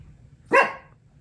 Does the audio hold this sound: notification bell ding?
no